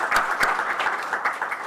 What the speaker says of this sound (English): Please, a round of applause for our Indian hosts